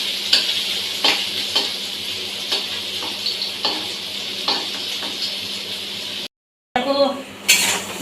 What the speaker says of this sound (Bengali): ডিম দিয়ে ভালো করে ভেজে নিলাম।